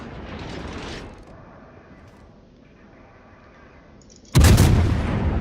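Heavy naval gunfire in the World of Warships video game comes as a sudden loud boom near the end, after a stretch of low, steady engine-like rumble.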